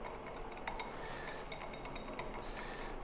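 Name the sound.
whisking thickening chocolate in a saucepan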